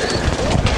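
Domestic pigeons feeding in a rooftop loft, soft low cooing close by with shuffling and pecking noise, continuous over a brief moment.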